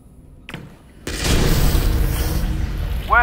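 A grenade explodes in Half-Life: Alyx: a sharp boom followed by a sustained, loud rumbling roar with debris-like noise that continues to the end.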